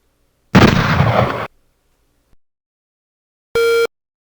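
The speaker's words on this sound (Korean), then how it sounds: "소리 파일 불러오기로 삑 하고 총소리를 불러와 줍니다" A gunshot sound effect loaded into children's coding software for a running game plays as one loud, noisy second-long blast, followed after a silence by a short synthetic beep.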